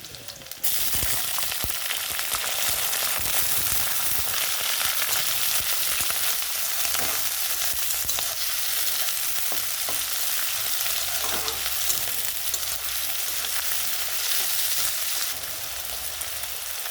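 Meat frying with green chillies and cumin seeds for an Assamese-style dish, a loud steady sizzle throughout with occasional stirring scrapes, close and continuous with no talking.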